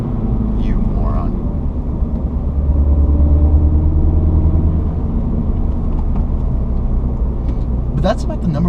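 A 2016 Mini Cooper S engine under way, with a steady loud drone and road rumble and a slight shift in tone as it goes into third gear, heard from inside the cabin.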